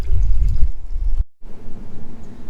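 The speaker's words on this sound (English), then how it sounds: "Go ahead and fill that up with water." Water running into a plastic bottle holding car shampoo, a close pouring and gurgling fill that briefly cuts out, then resumes with a higher, steadier splash.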